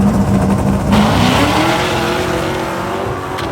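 A green 1968 Chevelle and a stick-shift 1977 Ford pickup drag race at a drag strip, engines roaring close and loud, one revving high then dropping pitch as it shifts gears, followed by a steady rising climb.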